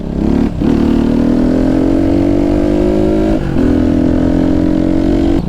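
A Suzeromoto 250cc dirt bike engine drones loud and close as it is ridden, a steady buzzing tone that dips briefly with a gear change or throttle lift before climbing again.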